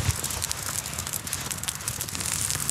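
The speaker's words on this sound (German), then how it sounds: "Boah, das wird so gut hier am Feuer" Campfire burning at a wilderness survival camp in Canada, a dense steady bed of fine crackles and pops with a few sharper snaps, close and continuous throughout with no talk.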